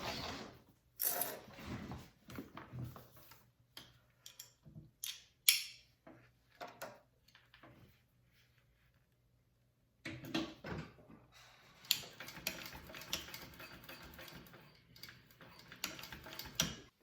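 Hand stitching a leather backpack: close, quiet bursts of scratchy pulling and ticking as thread drags through the leather, broken by a near-silent pause before the rasping handling picks up again.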